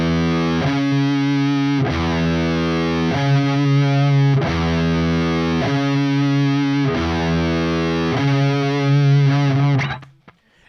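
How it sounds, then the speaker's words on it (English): A major sixth rung out repeatedly on a heavily distorted electric guitar, six sustained two-note hits in an even rhythm, loud and close, with the last one ringing before cutting off. "Next up, we have our major sixth,"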